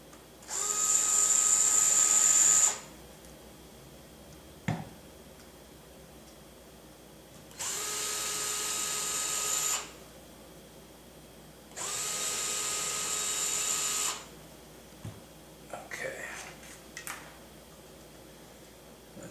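A cordless power driver backs screws out of a model helicopter motor in three steady whirring bursts of a few seconds each, separated by quiet gaps with small clicks and taps.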